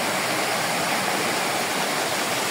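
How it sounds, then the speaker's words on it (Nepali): A small waterfall near Pokhara pours with a constant, full rushing roar, close and uninterrupted. "यस्तो दामी झरना छ नि सानो होइन"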